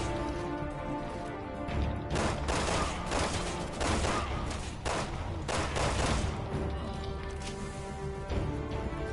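Rifle gunfire in the video game Resident Evil 6, a series of sharp shots and bursts over continuous game noise and music.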